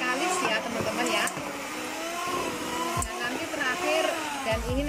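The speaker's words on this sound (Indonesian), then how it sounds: "kayak gini kita mixer terus ya teman-teman ya" An electric mixer kneads bread dough for an eggless toast loaf, producing a continuous close motor whine that shifts in pitch as the dough catches and turns, with a voice talking over it.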